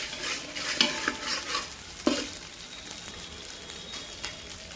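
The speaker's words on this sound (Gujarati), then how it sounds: "કઢીનો વઘાર મારી દે બરાબર મસાલાને ત્રીસ સેકન્ડ પકાય" Spices sizzle and crackle in hot oil while tempering Gujarati kadhi, a steady close frying hiss with a few stirring scrapes and louder sputters, no voices.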